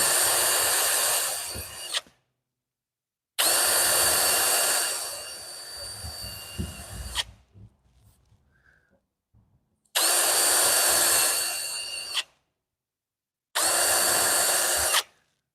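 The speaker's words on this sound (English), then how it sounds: "So I'm just drilling like a pilot hole through from the outside, from the inside out." A power drill bores pilot holes through wooden drawer front frames for a chest of drawers in a workshop, running in four loud, whining bursts of a couple of seconds each, separated by silences and faint handling noise.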